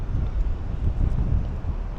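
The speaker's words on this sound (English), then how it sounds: "it's quite windy today." Steady wind buffets the microphone over Harrow and Wealdstone, London, a dense low rumble that gusts and swells throughout with no voices.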